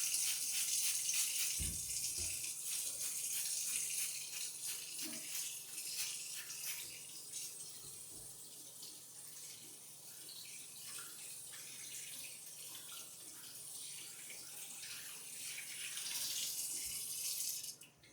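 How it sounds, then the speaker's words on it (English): A tap runs steadily into a sink with occasional light clunks and rattles while hands are washed in hot water, the water flowing continuously before cutting off at the end. "I'm going to wash my hands with hot water."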